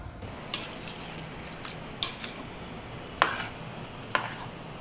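Turmeric, chili powder and coriander powder stirred into a pan for chicken curry, a low continuous frying hiss broken by four sharp scrapes and taps of a spoon against the pan.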